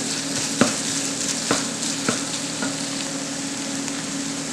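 Sauce ingredients for a homemade spaghetti meat sauce fry in a pot with a constant loud sizzle, broken by a few distinct knocks of a spoon stirring against the pot, close and with no talking.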